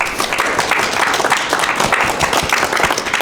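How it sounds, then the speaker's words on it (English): Audience applause for poet Rae Armantrout at a Town Hall Seattle meetup, a steady burst of many hands clapping throughout, fairly loud and continuous with no talk over it. "Can you put your hands together for Rae Armantrout"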